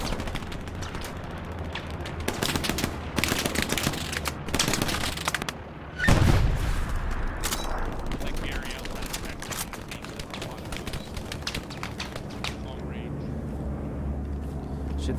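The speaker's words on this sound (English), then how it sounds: "That's an enemy bombing run." A video game enemy bombing run brings dense bursts of gunfire and machine-gun rattle, sharp blasts and a heavy boom around the middle, with aircraft noise and players talking over the combat.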